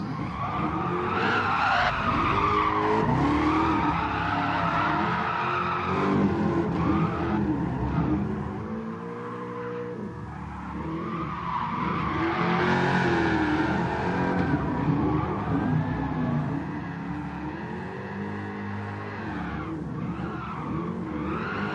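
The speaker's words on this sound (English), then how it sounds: "I need to be setting up to drift the last corner by the end of the pit wall." Tyres squeal continuously as a car drifts around Tsukuba in Gran Turismo Sport, its engine revving and howling loudly throughout with brief dips as the throttle lifts between slides.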